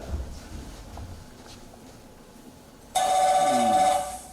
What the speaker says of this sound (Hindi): फोन उठा रहा हूँ।